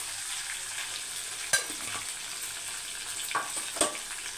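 Crushed garlic fries in a pan with a faint, steady sizzle, broken by a few soft scrapes or taps from stirring.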